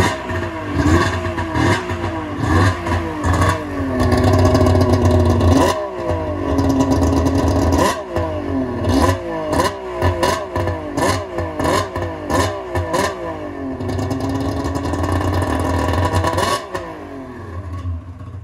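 A Yamaha SRX 700 triple snowmobile engine, running with a low idle that needs held throttle, revs repeatedly, its loud rising and falling engine note close by with clattering between blips.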